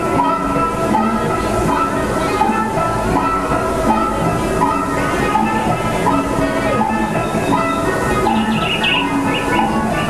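Disneyland Railroad train running, with a loud, continuous rumble and mechanical hum of the rolling cars, steady throughout with faint higher hiss and rattle near the end.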